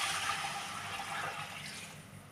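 Water being poured into a cooking pot for rice, a soft continuous splashing rush heard faintly and alone throughout.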